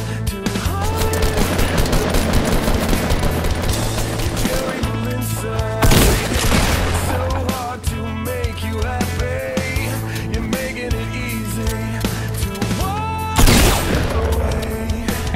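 Gunfire in a shooter video game: dense bursts of automatic weapon fire with sharp single shots and booms, loud and continuous, with game music or effects underneath.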